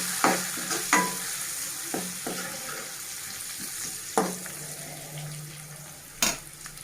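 Curry leaves crackle and sizzle in hot oil in a pan while a spoon stirs, giving several distinct scraping knocks over a steady frying hiss; close and clear with no talking.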